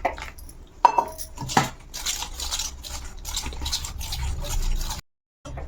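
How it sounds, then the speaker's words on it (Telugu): Batter made with water is stirred in a bowl for vegetable rolls. A couple of sharp clinks against the bowl lead into a steady, wet, squishy stirring that runs close by and then cuts off. "మనం వాటర్ వేసుకొని కలుపుకోవాలి కొంచెం తిక్కుగా వచ్చేలాగా కలుపుకోవాలి"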